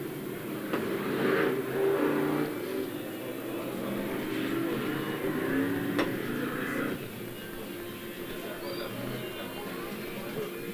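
Race cars accelerate past on a track during a qualifying session, engines rising and fading as they pass at a moderate distance, with a French commentator talking throughout.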